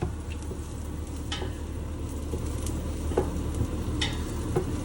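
Diced garlic sizzles and crackles in a hot pan while being stirred, with occasional scrapes and clicks of the utensil over a steady close frying hiss.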